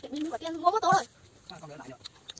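A goat bleats loudly in a couple of wavering cries close by, followed by a quieter second bleat, during a family sour-starfruit eating challenge.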